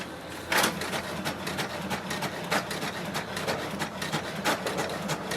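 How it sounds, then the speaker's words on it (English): An HP DeskJet 2652 inkjet printer makes a copy close by, a busy mechanical whirring and rubbing with repeated clicks and sharper carriage strokes in an irregular rhythm. "click the copy button. So you can do black or color, so click it once and just wait for the printer to do the copy"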